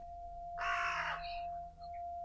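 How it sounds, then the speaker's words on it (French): A crow gives a single loud, harsh caw close by, with a few faint chirps after it against a steady high electronic tone. "C'est un oiseau, un corbeau."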